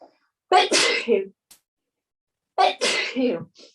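Two loud allergy sneezes, a couple of seconds apart, each a sharp burst followed by a breathy trail, close to the listener.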